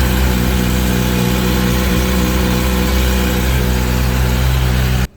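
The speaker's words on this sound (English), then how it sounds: "That's signature inline 4." A 2021 Kawasaki ZX10R 1000cc inline four-cylinder motorcycle engine idles close by, a low, even rumble with a constant droning hum that holds without revving, then cuts off abruptly at the end.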